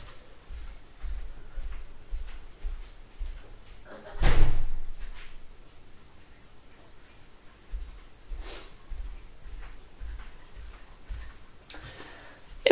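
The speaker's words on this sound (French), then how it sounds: "Attendez, je vais fermer la porte, le chien vient de rentrer." A door closes once indoors with a single firm slam partway through, set among quiet room sounds and faint, regular ticking and light knocks before and after.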